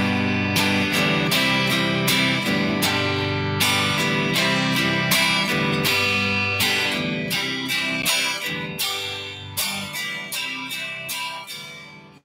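Strummed guitar chords in a driving folk-rock rhythm, dense repeated down-and-up strokes with chord changes through the first bar played a couple of times, close and loud with no talking.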